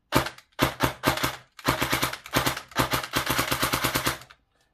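A custom Spectre RDP airsoft submachine gun fires close and loud in several rapid full-auto bursts of varying length, with sharp rhythmic mechanical cracks and short pauses between strings.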